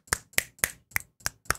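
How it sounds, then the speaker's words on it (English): Finger snaps from the Antidrum 2 sample library: six crisp, dry snaps at a steady, evenly spaced rhythm, each sharp and isolated against silence. "Then we got finger snaps."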